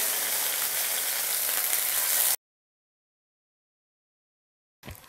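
Bafle, a baked wheat dough ball, frying in melted ghee: a loud, dense sizzle for about two seconds, then sudden silence, then a brief return of the sizzle at the end.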